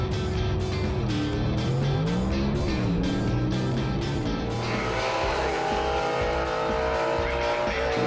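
A Southeast Gassers drag racing car roars loudly and continuously, its engine pitch rising and shifting as it accelerates down the lane.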